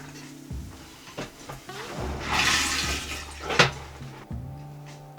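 A camper toilet flushes inside a truck camper with a short rushing gurgle of water that swells and drains away within a couple of seconds, bracketed by a soft click and a thump, close and alone.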